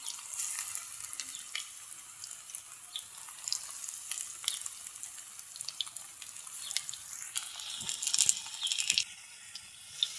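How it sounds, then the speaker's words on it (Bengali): Cauliflower kebabs frying in hot oil in a kadai give a steady, close crackling sizzle throughout, with sharp pops and a louder burst of spattering near the end. "এখন এগুলা সুন্দর করে লাল লাল করে ভাজে নিব"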